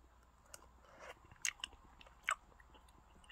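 Someone eating cooked Korean rice cakes (tteok) in broth late at night, with a few close, soft chewing and biting crunches in short bursts against a quiet room.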